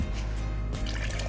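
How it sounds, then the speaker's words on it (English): Soaking water from cashews pours into a pot of vegetable broth soup, a steady liquid trickle and splash running continuously throughout at close range. "you can just add in the water that was soaked in with them."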